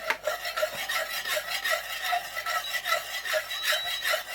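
Melted candle wax being stirred after fragrance oil is added, for pillar candles and wax melts: a steady, close scraping and rubbing of the stirrer against the pot, repeating evenly without a break.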